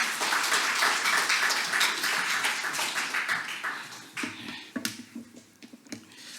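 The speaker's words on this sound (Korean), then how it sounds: "우리 박수로 환영하겠습니다" A church congregation at a Sunday service claps to welcome a missionary speaker, dense applause at first that thins into scattered individual claps and fades out.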